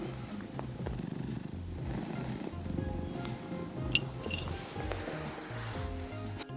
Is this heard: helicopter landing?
no